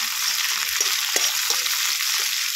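Grated garlic frying in a pan with onion for a flat bean dish, a steady bright sizzle with a few soft stirring scrapes, close and continuous with no voices.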